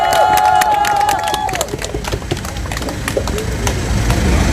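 Applause from an audience at a Korean press conference, a dense wash of clapping that carries on steadily after a voice fades out at the start.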